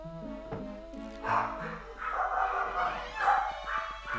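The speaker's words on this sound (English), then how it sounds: "My dogs are still freaking out." Pet dogs bark and yip excitedly in a short run of loud, close barks that follow each other fast. Music plays softly in the background.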